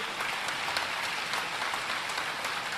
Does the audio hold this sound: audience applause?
yes